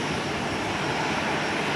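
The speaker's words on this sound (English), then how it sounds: "Skywest 3764 with an Embraer E175" A SkyWest Embraer E175 arriving at Minneapolis–St. Paul airport gives a brief, steady broadband engine roar, loud and constant with no break and no voices.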